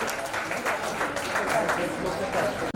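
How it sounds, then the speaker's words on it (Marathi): An audience at a baby shower claps steadily for the family, a sustained wash of applause with some crowd noise underneath. "सगळ्यांनी थोडं जोरदार टाळ्या वाजवा एकदा फॅमिलीसाठी"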